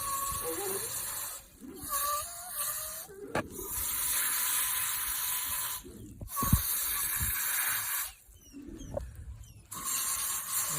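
Spray nozzle wetting potted plants: a steady broadband hiss comes in bursts of a few seconds, stopping briefly between passes, with rustling and a quiet voice speaking in the gaps.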